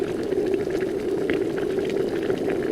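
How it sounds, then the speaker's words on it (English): A steady low bubbling rumble, like water at a rolling boil, continues evenly throughout without pauses or voices. "You boiling water?"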